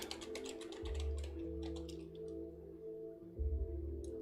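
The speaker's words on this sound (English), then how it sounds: "just typing in a number there and see" Keys tapped on a computer keyboard as a number is entered, a quick run of light clicks near the start over a steady low hum, then a few scattered taps, with no voices.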